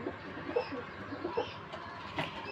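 Pigeons on a rooftop give a few soft, low coos, spaced out across a faint outdoor background with some distant noise.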